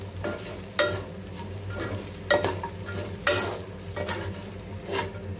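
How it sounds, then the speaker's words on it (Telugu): Ridge gourd fry with cumin powder being stirred in a hot pan, a steady sizzle broken by several loud, regular scraping strokes of a spoon against the pan. "జీలకర్ర పొడి యాడ్ చేసుకొని ఇవన్నీ మిక్స్ చేసుకోవాలి"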